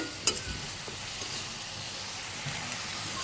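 Ground spices with turmeric, chili powder, cumin powder, salt and a splash of water sizzling and frying in a pan, a steady close hiss with a sharp clatter near the start.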